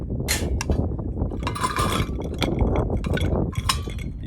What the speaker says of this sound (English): you want to go ahead and fill your vessel, whatever it is you're using, with ice